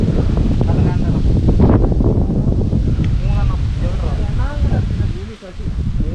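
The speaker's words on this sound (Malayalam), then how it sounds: "നല്ല കാറ്റോ കാറ്റ് ഒരു രക്ഷയില്ല" Strong wind on the way up to a tribal village in the Wayanad countryside buffets the microphone with a loud, continuous low rumble while people talk over it.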